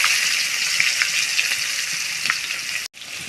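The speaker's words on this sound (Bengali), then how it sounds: "পেঁয়াজটাকে সুন্দর করে ভেজে নেব।" Onions fry in hot oil in a wok with a loud, steady hissing sizzle that runs nearly unbroken, then cuts off sharply for a moment near the end before resuming.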